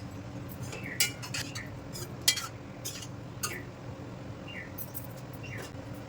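Cut pesarattu pieces stirred into curry in a pan, a utensil clinking and scraping against the metal in scattered faint taps over a quiet background.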